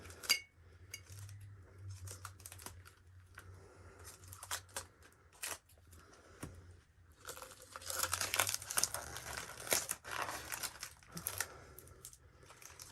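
Crinkly plastic sublimation shrink wrap is peeled and torn off a glass mug in close, quiet bursts of crackling and tearing, louder and denser near the end, with occasional light clinks.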